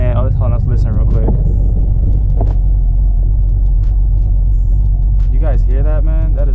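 Car engine running close by, a loud, steady low rumble throughout with someone talking over it at the start and end.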